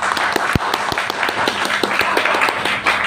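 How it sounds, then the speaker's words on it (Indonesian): An audience at a university briefing claps for a lecturer, with a brief burst of scattered, close hand claps and a few sharp individual claps standing out from the steady applause. "Tepuk tangan Bu Zahra."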